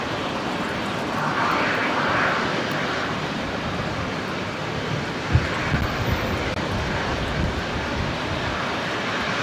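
An Embraer jet taxis at Brisbane airport after landing, a continuous broadband engine roar at moderate distance that stays fairly even throughout, with no voices.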